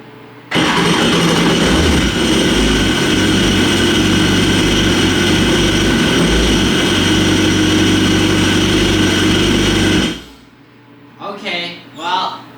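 An old jet ski engine that sat for years cranks and catches, then runs loud and steady for about ten seconds before cutting off, after which a person speaks over quiet surroundings.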